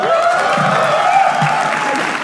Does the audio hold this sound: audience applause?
yes